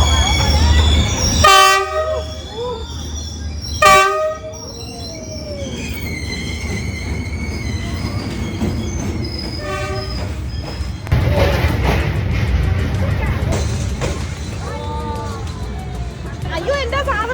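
A train rolls slowly through the narrow Hanoi Train Street in Vietnam, its horn blaring in loud repeated blasts, then rumbling, clacking and squealing as it passes close by, with people talking over the noise.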